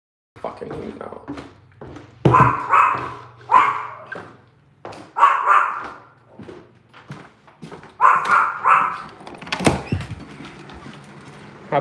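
Household dogs bark and yip in short bursts outdoors near a door on a hot, humid day, several clustered barks repeating close by, with someone talking around them.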